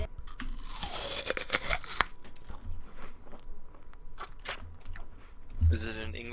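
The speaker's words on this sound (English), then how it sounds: "Do you want to hear me bite into an apple?" Crisp, crunchy bites into an English apple, a few sharp crunches and tearing sounds close to the mic, mixed with a Counter-Strike match and people talking.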